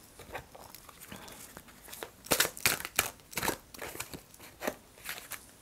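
Oracle cards are shuffled and drawn during a card reading, giving a run of dry papery snaps and rustles. The bursts come in an uneven rhythm, are heard close up, and play alone without any talk.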